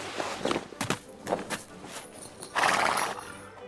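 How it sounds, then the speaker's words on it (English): A horse neighs and whinnies while hooves clop in a short walking rhythm, several bright bursts close by with no talking. "he hopped off his horse."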